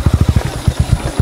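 Motorcycle engine ridden slowly along a slippery dirt path, a close, loud, low chugging pulse with evenly spaced beats.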